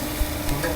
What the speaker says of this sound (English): Sizzle is more than ready.